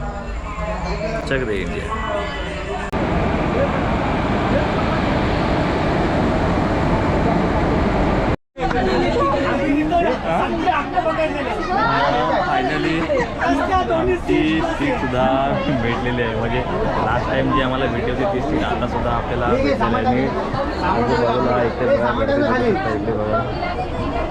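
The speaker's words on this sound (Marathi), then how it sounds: "सगळेजण आपापली सीट पकडायच्या मार्गावर ते आणि प्रवास चालू आहे ट्रेनमध्ये" Many passengers chatter at once in a crowded Mumbai local train carriage heading to CST, a loud continuous babble of voices with no single speaker standing out.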